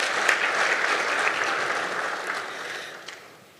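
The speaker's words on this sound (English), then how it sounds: "Shall we applause for the heads of state?" Audience applause for heads of state at an extraordinary summit of the Southern African regional bloc, a dense, even burst of clapping from a large hall that fades toward the end.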